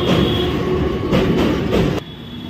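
A metro train runs close by with a loud, steady rumble and rattling wheels for a couple of seconds, and the noise drops slightly near the end.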